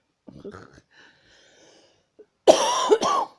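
A few faint breathy sounds, then two or three loud, raspy coughs close up near the end.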